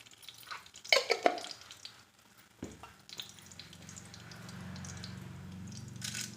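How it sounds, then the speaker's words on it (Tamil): Mustard seeds hitting hot oil in a pan, a burst of sharp crackling pops near the start followed by a clunk and a soft, steady sizzle that builds gently, no voices. "கடுகு சேர்த்திக்கலாம்."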